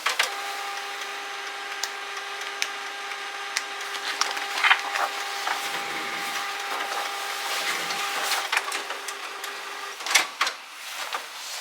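Home printer running an order print job, a continuous mechanical whir with steady tonal hum and scattered clicks and rattles of paper feeding, close and moderately loud with no talk.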